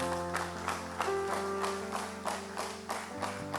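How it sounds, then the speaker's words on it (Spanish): A church congregation at a Sunday service claps in an even, repeating rhythm over sustained music, the claps moderately loud and regularly spaced. "Dale un aplauso al Señor."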